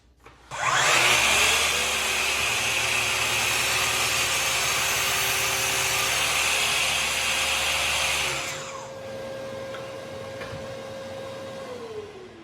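A Festool KSC 60 Kapex miter saw spins up loudly and cuts through wood with dust extraction running, a steady roaring whine for about eight seconds before dropping to a quieter hum that fades out.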